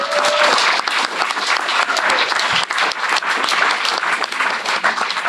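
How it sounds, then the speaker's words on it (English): A salon-talk audience gives loud, close applause for the bar and sound staff; vigorous clapping with some sharp individual claps and a brief whistle at the start, sustained without a break. "I think they deserve a round of applause."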